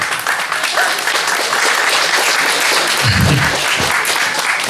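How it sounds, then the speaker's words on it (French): Loud, close applause from a studio audience for a guest on a French regional TV culture program, a steady burst of dense clapping throughout. "vous pouvez l'applaudir"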